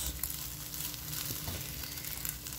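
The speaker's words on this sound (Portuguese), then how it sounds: "Assim que os ovos já estiverem bem fritos" Scrambled eggs sizzle steadily in a frying pan, a dense continuous crackle with faint stirring scrapes, held at an even level throughout with no talking.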